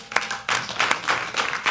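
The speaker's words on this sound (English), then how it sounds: "Clap if you have children." Comedy club audience clapping in short bursts during a stand-up special, a few uneven waves of hands from a live crowd, close and moderately loud.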